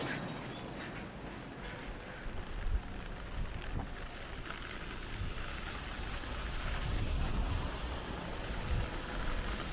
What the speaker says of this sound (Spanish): una llovizna indecisa coquetea con convertirse en aguanieve antes de tocar el suelo y limitarse a humedecerlo